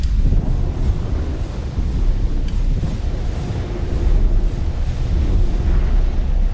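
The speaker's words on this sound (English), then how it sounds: "Yeah, that's a lot of fireworks." Fireworks in the X4 Foundations space game, a dense, continuous low rumble of booming blasts that holds steady and loud throughout, with no talk.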